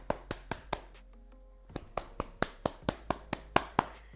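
Hands clapping against curly hair scrunched with L'ANZA Neem Plant Silk serum: a steady run of about fifteen close, soft, sharp pats, with a brief pause near the start, then quicker and firmer toward the end.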